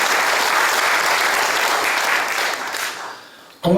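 Audience applause welcomes guests at a church men's mission breakfast prayer meeting, loud sustained clapping that fades toward the end before a sharp new sound cuts in.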